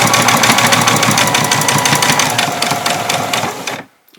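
Sewing machine running a loud, fast, steady seam of stitches across apron fabric, close up, then stopping abruptly near the end.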